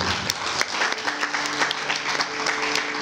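A church congregation claps together, a dense sustained wash of applause with a faint sustained tone running underneath.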